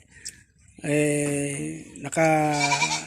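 A goat gives two loud, drawn-out bleats close by, the second following after a short pause, with a brief faint sound just before the first.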